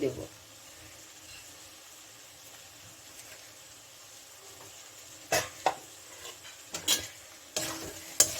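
A small Mourola fish green-gravy chorchori is stirred in a pan after salt goes in, with a low simmer underneath and a few sharp spatula scrapes and clinks toward the end, fairly faint overall.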